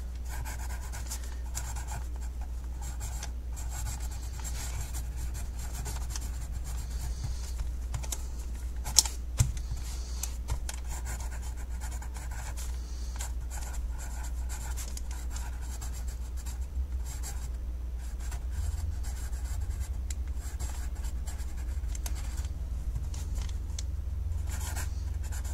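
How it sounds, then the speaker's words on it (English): Pen writing cursive on paper, a soft continuous scratching and rubbing of strokes with small pauses, close and quiet over a low steady hum for about twenty-five seconds. "So I'm just going to write this."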